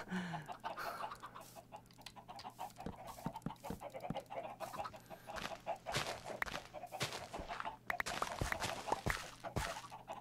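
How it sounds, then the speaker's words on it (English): Chickens in the Minecraft video game cluck and squawk repeatedly in short, uneven bursts throughout, with scattered game clicks and no talking. "Chickens, do you mind not being so annoying?"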